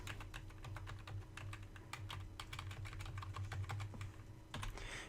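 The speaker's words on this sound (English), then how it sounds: "Just hit the spacebar a couple times and space it out." Fast typing on a computer keyboard, a steady stream of crisp key clicks with occasional heavier spacebar taps, close up over a low constant hum.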